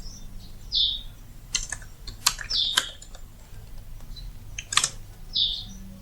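Computer keyboard keys, including the spacebar, clack in a sparse, uneven series of sharp taps close by while typing in Microsoft Word, with bird chirps in the background.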